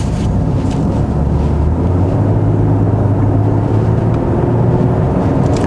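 A Genesis G80 3.5 turbo AWD on a winding road, its engine heard from inside the cabin as a steady low hum that rises in pitch under rushing road and wind noise.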